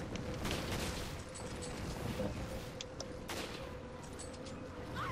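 Gunfire in Resident Evil 5 while shooting an enemy, a dense, noisy barrage of shots and blasts with a few sharper cracks standing out, loud and sustained throughout.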